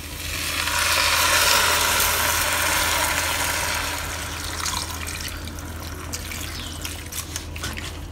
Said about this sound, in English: We will now add in some water.